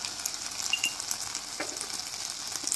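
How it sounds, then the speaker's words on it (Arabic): Okra sautéing in a pan with garlic, onion, cumin, coriander and black pepper, giving a steady close hiss of frying with faint stirring scrapes throughout. "بعد ما شوحت الباميه مع التوابل والثومه والبصله"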